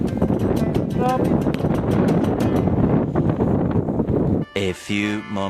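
Strong wind buffets the microphone outdoors on a mountain road near a rock slide, a loud continuous roar that drops out at the end when a person starts speaking.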